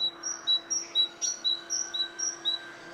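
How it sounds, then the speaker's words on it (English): Small bird chirping outdoors in a steady series of about ten short, high tweets at a regular rhythm, clear and fairly close over a faint background hum. "What bird is that?"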